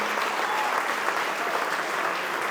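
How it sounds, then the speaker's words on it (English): Audience applause fills a room at a spring fundraising event, a steady, dense patter of many hands clapping evenly throughout with no pauses. "how about a round of applause for Jersey and Kelly and Kathy"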